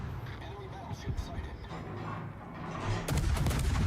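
Naval gunfire in World of Warships, heavy booming battle rumble building to a louder dense stretch near the end, with someone talking over it.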